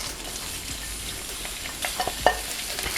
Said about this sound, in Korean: 향신채부터 볶습니다